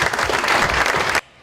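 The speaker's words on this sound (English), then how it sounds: "I think that deserves a round of applause." A loud burst of audience applause at a university event, a dense patter of many hands that cuts off abruptly after just over a second.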